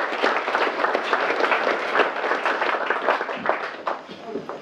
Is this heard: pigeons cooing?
no